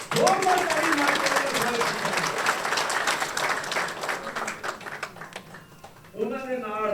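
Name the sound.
audience applauding loudly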